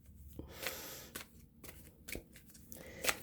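Oracle cards are shuffled by hand in a series of soft riffling and sliding bursts with small taps between them, close and fairly quiet, without talk.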